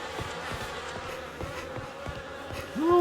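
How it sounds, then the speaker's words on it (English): Insects buzz in The Fidelio Incident, a continuous droning hum with faint ticking pulses in the background and a rising whine just at the end. "The air is heavy with the stink of rot and the buzzing of those damned insects"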